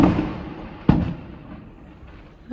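Fireworks burst at a family holiday gathering, with one sharp bang near the middle followed by a fading rumble and crackle, heard at a moderate distance over low background noise.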